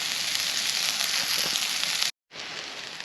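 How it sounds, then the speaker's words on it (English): A dense, steady sizzle of wild asparagus frying in a hot pan outdoors, loud and close, cutting out briefly near the end before resuming. "there really is only one way to eat this whilst it's sizzling"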